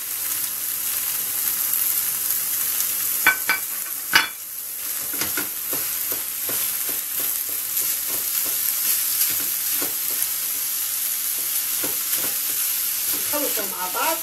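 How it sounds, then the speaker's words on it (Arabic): Minced meat hits a hot pan with garlic, giving a steady, close sizzle with a sharp clatter of the utensil near the start. Quieter stirring scrapes follow as the meat fries on. "الان نضيف له اللحم المفروم"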